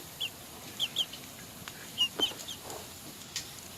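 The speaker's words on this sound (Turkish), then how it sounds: "Hint tavuğu yumurtasından çıkan civcivimiz." Scattered short chirps and clucks from a young guinea fowl chick and chickens, light and fairly close, spread across a quiet outdoor background.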